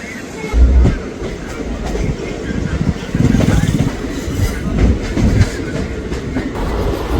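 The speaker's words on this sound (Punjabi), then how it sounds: "ਸੋ ਨਿਕਲ ਚੁੱਕੇ ਆ ਜੀ ਆਪਾਂ ਕੋਲੀ ਰੇਲਵੇ ਸਟੇਸ਼ਨ ਤੋਂ" Passenger train running on the rails after pulling out of Koli railway station on the Bathinda–Ambala route, a steady heavy rumble with rhythmic clickety-clack of wheels over rail joints and occasional louder thumps, heard from inside a carriage.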